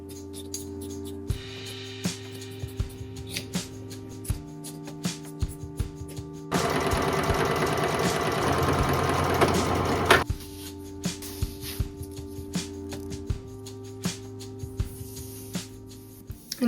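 Sewing machine stitching a straight seam on thin cotton spaghetti straps, a fast whirring run in the middle bursts out loud between quieter stretches of soft clicks and handling noises.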